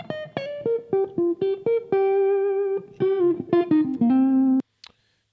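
Clean, unprocessed electric guitar recorded direct, a jazzy line of distinct plucked notes and short chords with clear sustained tones, played alone at moderate volume before cutting to silence.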